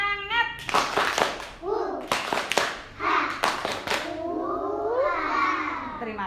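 Preschool children in a village early-learning class clapping a rhythmic spirit clap in sharp bursts of several claps, chanting along between them, with an adult voice leading.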